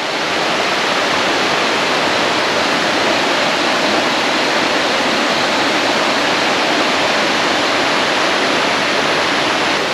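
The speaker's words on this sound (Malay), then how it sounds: "Pagi ni kita tengok sungai lagi sekali. Sungai yang sejuk." A cold river rushes past a campsite, producing a steady, loud, broadband roar of flowing water that holds constant and unbroken throughout, with no voices.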